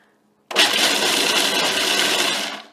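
A KitchenAid 4-in-1 food processor switching on abruptly after near silence and whirring loudly at steady speed while pureeing pecans into pecan butter, close and alone, tapering slightly at the end.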